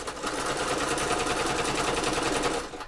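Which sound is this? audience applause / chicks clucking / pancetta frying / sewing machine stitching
sewing machine stitching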